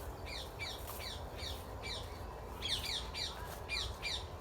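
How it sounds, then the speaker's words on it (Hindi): Birds in a village repeat bright chirping calls in quick clusters, moderately near, over a soft outdoor background hum, with no one talking. "यहाँ पर देखो कितनी बढ़िया बढ़िया चिड़ियों की आवाज़ें"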